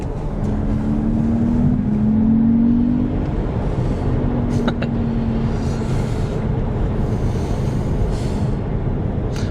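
An Alfa Romeo Junior engine drones steadily while driving, with a low hum and a faint rising tone near the start, heard from inside the car with road noise throughout.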